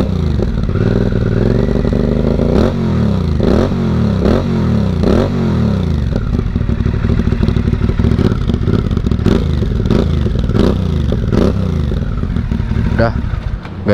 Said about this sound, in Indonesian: suara knalpot dari mesin V-twin